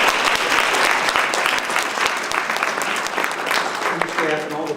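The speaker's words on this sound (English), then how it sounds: "So Joe Logano, one more round of applause for him." Audience applauding steadily at an education summit, a dense wash of clapping that fills the space, with a voice beginning to speak near the end.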